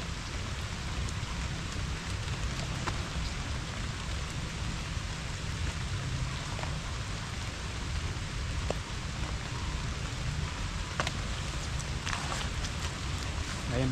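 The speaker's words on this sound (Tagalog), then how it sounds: "Kaya maulan po yung umaga natin ngayon." Heavy rain during a typhoon in the Philippines pours steadily and densely for the whole stretch, a loud unbroken hiss with scattered sharper drops and splashes, no voices.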